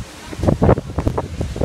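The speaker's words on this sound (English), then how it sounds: "See, this morning when it's very windy and it's very damp." Strong wind buffets a microphone outdoors in a garden on a damp morning, sounding as short, uneven rumbling gusts that rise and fall close to the recorder.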